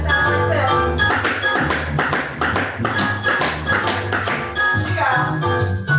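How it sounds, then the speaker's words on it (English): Fast shuffle steps from a tap dance class ring out as a dense, rapid run of crisp metallic taps, steady and fairly loud, with no talking over them. "All right, we're going to do our fast shuffle."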